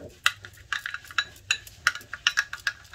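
Marinade of spices, nutmeg-mace powder and half a lemon's juice for steam-roast chicken is stirred briskly in a bowl, a utensil giving a quick, uneven run of close clinks and scrapes with no talking.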